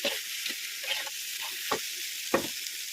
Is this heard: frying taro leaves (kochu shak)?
yes